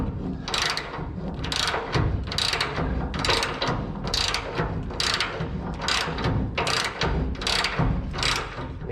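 Ratchet tightening bumper bracket bolts on a 1979 Ford F100, a close, loud series of clicking pawl bursts repeating in an even rhythm, one stroke after another.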